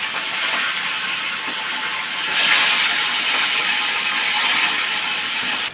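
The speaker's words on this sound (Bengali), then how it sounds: "গরম হয়ে গেছে, মাছের মাথাগুলো ছেড়ে দিলাম," Fish heads fry in hot mustard oil in a heated kadai, producing a loud, dense, continuous sizzle and hiss that swells slightly midway, close up with no talking.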